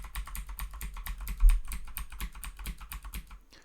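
Close, quiet typing on a computer keyboard while entering data, a steady run of rapid light key clicks with one heavier tap midway.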